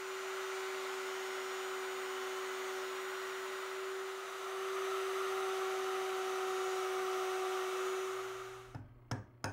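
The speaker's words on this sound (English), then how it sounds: "using the same bit, we cut the slots that will join the top and bottom to the sides of our frame." A router with a mortising bit cuts slots into a wooden frame that joins top and bottom rails to the sides. It gives a steady, loud, high whine for about eight seconds, then cuts off, with a few short knocks near the end.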